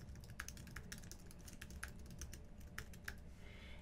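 Typing on a computer keyboard while signing in to a Webex account, a quiet run of uneven, light key clicks with brief pauses, close by and without speech.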